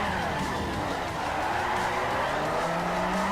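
Car drifting in Forza Motorsport 4, likely a Nissan S14 with an RB26 engine, its engine droning steadily with a continuous tire squeal throughout, loud and close.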